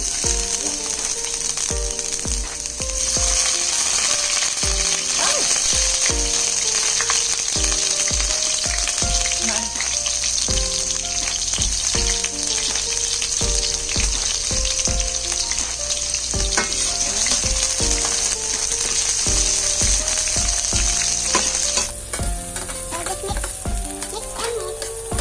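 Onion frying in canola oil over medium-high heat crackles and sizzles loudly and continuously at close range, with rapid spitting pops and a steady hiss layered over a persistent tonal hum, no voices.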